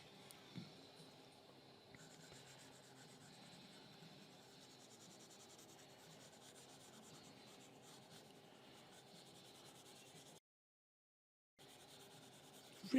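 A pencil shades on paper during a sketch, a soft continuous scratchy rubbing that goes on steadily at low level, close to the microphone, breaking off briefly near the end.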